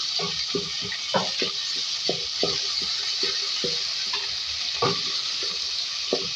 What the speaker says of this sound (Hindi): अब इसमें हम ऐड करेंगे लहसुन का पेस्ट 1 टीस्पून, अदरक का पेस्ट साथ में ऐड करेंगे 1 टीस्पून। तो फ्राई कर लें।